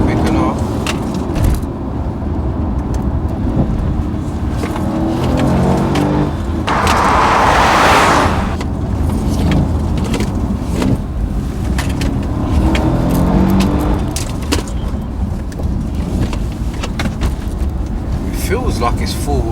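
A Mercedes S63 AMG Coupe drives and accelerates, its engine rumbling loud and steady from inside the cabin, with a rushing surge midway and talk over it throughout.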